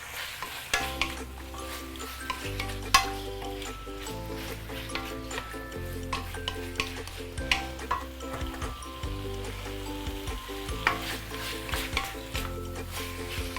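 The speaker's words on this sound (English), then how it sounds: "I'm going to stir fry this for a couple of minutes." Chicken and mushrooms stir-fried in a pan over high heat for claypot chicken rice give off a steady sizzle with repeated scraping and clinking strokes, under continuous background music.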